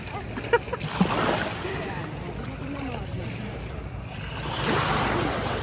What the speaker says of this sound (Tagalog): Ang ganda na naman ng dagat. Oh, lumalakas na yung alon.